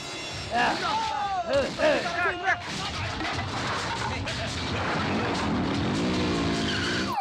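A car skids and races during a chase in a South Indian action film dubbed into Hindi, with loud tire squeals and engine roar; frantic shouting voices sound over the opening seconds before the skidding and motor noise dominate.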